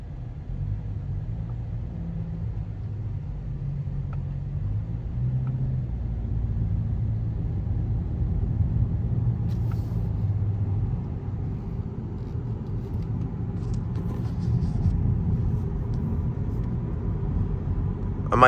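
A 2025 Toyota Camry SE AWD cruising on a highway, heard from inside the cabin as a steady low road and engine rumble that holds even and unbroken throughout, with no talking.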